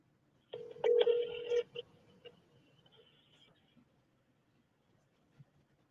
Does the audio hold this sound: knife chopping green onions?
no